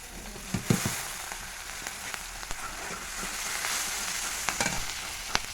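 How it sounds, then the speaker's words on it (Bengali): Onions frying with cumin seeds in hot oil in a pan after fish, giving a steady close sizzle with scattered pops and crackles throughout, no voices. "জিরেটা দিয়ে দিলাম, পেঁয়াজটা ভাজা বসিয়ে দিলাম।"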